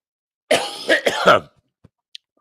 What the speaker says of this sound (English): Pardon me with the coughing, folks.